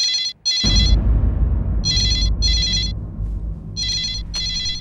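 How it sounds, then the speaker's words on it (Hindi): A telephone rings with an incoming call: loud, bright electronic trills come in short double bursts, repeating several times with brief gaps, over a steady low room hum and no talking. "आपके लिए फोन आया, किसी लड़की का फोन आया"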